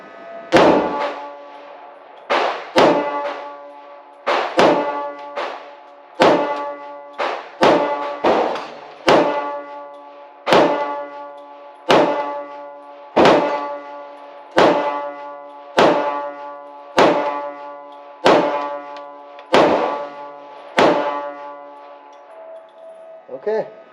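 Smith and Wesson M&P 22 Magnum pistol firing at an outdoor range: about a dozen sharp, loud shots spaced roughly a second or two apart, each with a short ringing decay, with no talk between them.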